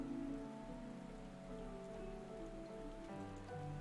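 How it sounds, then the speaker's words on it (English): Rain falls in Final Fantasy XIV as a soft, steady patter across the whole stretch, layered with sustained tonal background music and no voices. "It's bloody raining in-game."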